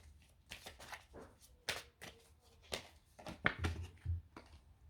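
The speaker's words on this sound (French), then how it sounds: "j'ai envie là pour le coup de sortir une autre carte" Tarot cards shuffled and handled up close, a series of soft riffling bursts and quick papery flicks in an irregular rhythm, fairly quiet with no voices.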